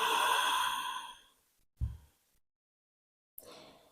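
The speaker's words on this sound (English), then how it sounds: "Take three deep breaths here." A deep, long exhale during a gentle yoga breathing practice, a breathy sigh that fades over about a second, followed by a short soft breath sound and then another quieter breath after a pause.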